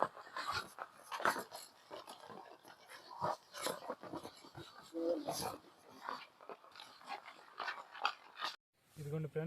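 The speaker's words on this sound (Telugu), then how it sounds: "ఇక్కడైతే కుక్క ఒకటి ఉంది కానీ చాలా పెద్దది" A large dog in a dark forest after rain makes faint panting and whimpering sounds in irregular bursts, with people talking nearby.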